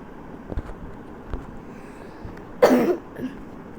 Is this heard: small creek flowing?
no